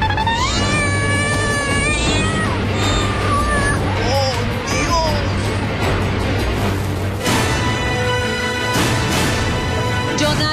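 Several cats meowing and caterwauling as a sound effect on a TV show, repeated rising and falling cries layered densely over a loud backdrop of crowd noise and talk.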